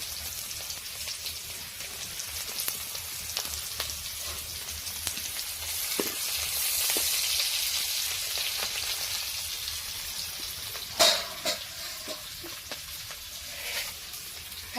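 Steady sizzling of fish heads and other chopped food frying in a pan, a constant crackly hiss with a few sharper pops near the end, no talking.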